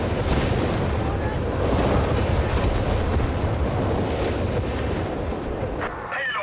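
Artillery barrage in the Company of Heroes 3 strategy game, Wehrmacht against British forces, shells pounding sappers. Dense, loud, rumbling explosions roll continuously, building in the middle and easing slightly near the end.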